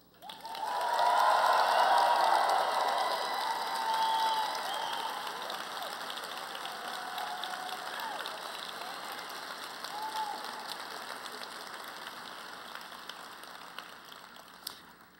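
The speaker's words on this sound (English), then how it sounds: "a rousing round of applause" Sustained applause from a large crowd of families and friends at a college of engineering commencement ceremony, loud at first and then tapering off gradually.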